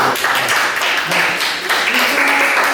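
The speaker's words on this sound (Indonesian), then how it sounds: "oke, tepuk tangan dong." Classroom students clapping together for a teacher's history lesson, a steady broadband patter of hands lasting a few seconds with some faint voices mixed in.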